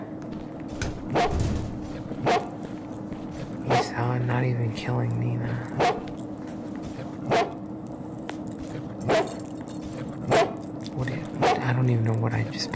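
Dog barking in a horror video game, with sharp barks repeating at a steady interval of roughly a second or two across the clip while someone talks over it.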